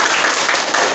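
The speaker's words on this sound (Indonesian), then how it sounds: "Sekali lagi tepuk tangannya mana?" Audience applause in a school quiz studio at SMP Pego, a dense, steady burst of many hands clapping close by, loud and continuous with no talk over it.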